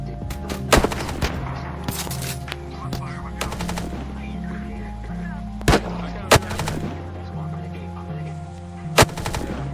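Video game gunfire with sharp loud blasts and rapid bursts cracking over a low droning engine-like hum and layered in-game noise, a few isolated heavier booms standing out.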